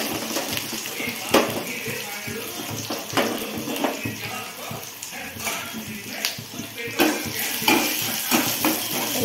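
Onions tossed in with chillies in a pan over raised gas heat, stirred with steady scraping and soft sizzle, close and alone with no talk.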